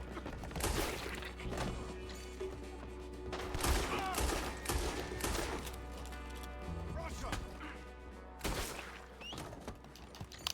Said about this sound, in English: Alright, I'm gonna have to shoot my way out